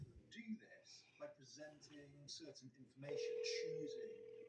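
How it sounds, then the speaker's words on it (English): Telephone ringing on an outgoing call to the CIA, one steady ring tone swelling in near the end after a stretch of background talk and noise, loud and close as if through a handset. "There's 4 rings."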